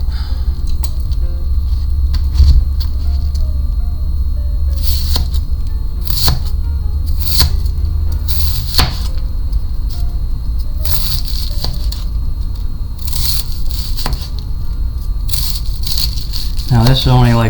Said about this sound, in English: we're going to be needing to cut up this cabbage